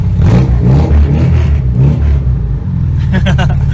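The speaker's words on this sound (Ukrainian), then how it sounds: "Прогоріла вихлопна система." A ZAZ Slavuta car engine with a burnt-out exhaust system rumbles loudly and unevenly with a rough, blatty exhaust note, revving up and down, with a voice briefly audible near the end.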